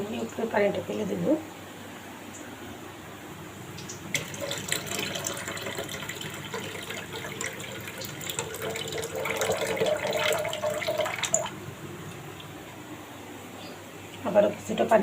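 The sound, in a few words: pouring water off soaked wheat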